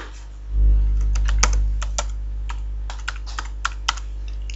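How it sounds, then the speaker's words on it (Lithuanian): Keys clacking on a computer keyboard as a website name is typed, irregular bursts of close, crisp keystrokes over a low hum, with no talking. "Aš rašau su klaidom."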